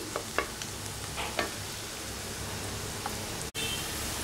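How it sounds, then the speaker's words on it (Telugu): Chopped onion pieces fry in a pan with a steady, even sizzle, broken by a few light stirring clinks, and no one speaks. "ఉల్లిపాయ ముక్కల్ని ఈ విధంగా ఒక 2 నిమిషాల పాటు ఇలా వేగనివ్వాలి"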